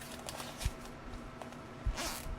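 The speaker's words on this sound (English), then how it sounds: "Zipper." A clothing-style zipper being opened in a quiet room, two short close rasping pulls separated by a pause.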